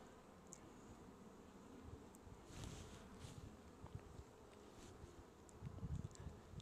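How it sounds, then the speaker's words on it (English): A newly captured honey bee swarm drones steadily inside its hive, a low continuous buzz, close and soft, with faint rustling and occasional louder passes of individual bees, with no speech. "To witness what the bees are doing."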